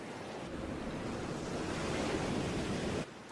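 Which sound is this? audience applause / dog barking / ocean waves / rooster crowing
ocean waves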